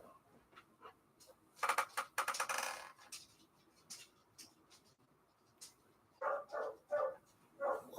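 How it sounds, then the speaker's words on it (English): Dog barking indoors, a few scattered sharp barks in bursts, fairly faint and alone without talk. "Asher, what are you barking at?"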